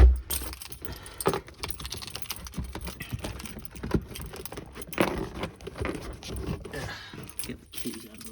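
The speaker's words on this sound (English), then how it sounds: "Get the keys out of there." Keys jangling as they are pulled out of a Volvo V70 (P80) during front seat and carpet removal, a series of light metallic clinks and rattles close by, fairly quiet.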